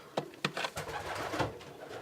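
Pigeons cooing inside a pigeon loft, a few soft, throaty coos rising and fading close by against a low background murmur, with no talking.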